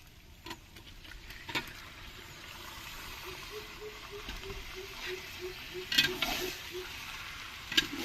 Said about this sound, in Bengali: এবার এর মধ্যে দিয়ে দেবো চিকেন